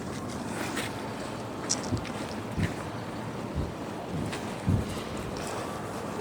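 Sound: wind on a rooftop

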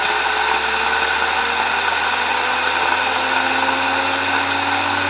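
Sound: 3D printed Tesla turbine spinning at about 6,000 RPM

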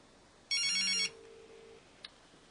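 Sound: phone ringing tone after placing a call on HTC Magic

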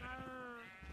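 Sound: sheep bleating in a video game

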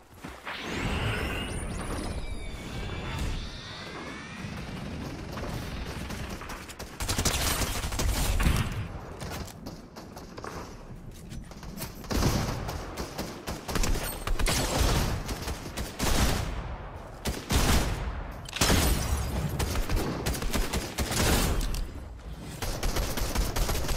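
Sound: gunshots in a shooting video game

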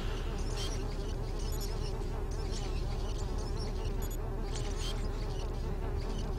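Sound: buzzing mosquito in the video game Beyond Good & Evil

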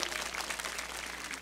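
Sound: audience applause at a live show

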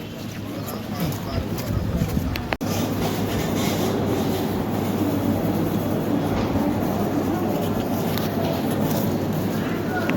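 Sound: train at railway station

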